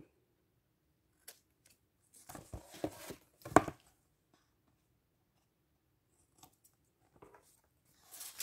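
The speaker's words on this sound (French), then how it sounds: "je vais peut-être couper juste les petits morceaux qui dépassent ici en bas" Small protruding pieces being snipped off with scissors during an ink-storage craft project: a few quiet, close, crisp cuts bunched together, then scattered faint clicks and rustles, with no talking.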